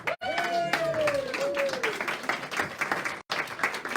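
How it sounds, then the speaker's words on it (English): An audience claps and cheers as Dr. Mareena Miller enters at a Coffee with an Entrepreneur event. Loud, sustained applause runs the whole time, and a sliding whoop rises over it near the start. "And the crowd goes wild."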